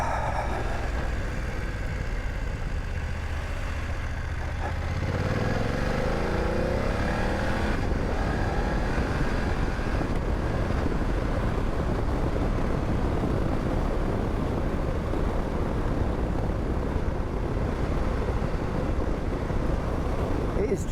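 A 2024 BMW F 900 GS motorcycle being ridden, its engine droning steadily and loudly beneath heavy wind rush, pitch shifting as it pulls away early on, then holding a constant roar.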